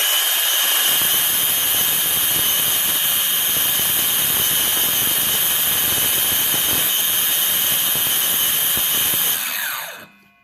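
A refurbished Craftsman C3 5 1/2 inch cordless trim saw runs with a loud, steady high-pitched whine for about nine seconds, then spins down and stops abruptly as the brake engages.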